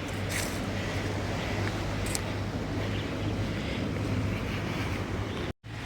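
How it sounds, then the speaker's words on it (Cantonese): A steady low engine drone with rushing wind and water noise from a moving ferry between Lamma Island and Central, Hong Kong, continuous and fairly loud. "呢隻船翻出去中環啊，半個鐘頭到嚟到呢度"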